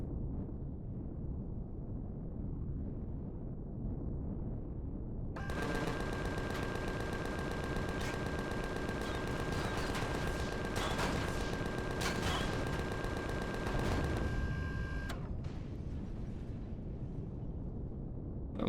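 Rapid automatic gunfire erupts from a drone firing behind a ship in the Empyrion space survival game, a dense continuous burst lasting about ten seconds over a steady engine rumble, then cutting off abruptly.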